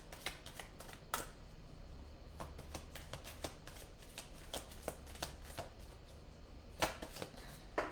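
Tarot cards are shuffled by hand, a quiet run of crisp riffling snaps and flutters in irregular bursts, close up in a hushed room without talking.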